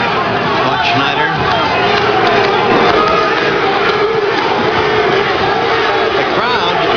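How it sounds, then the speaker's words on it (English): A boxing crowd at the Forum in 1993 chanting a fighter's name in support of the underdog, a loud, dense roar of massed voices filling the arena while a commentator talks over it. "The crowd, ever for the underdog, it would appear, shouting Cruz, Cruz, Cruz"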